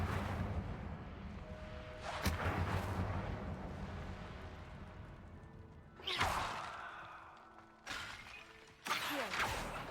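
The Incendio fire spell in the video game Hogwarts Legacy goes off in several loud, sudden whooshing bursts, each flaring up and then fading into a crackling rumble, with a rough low roar in between.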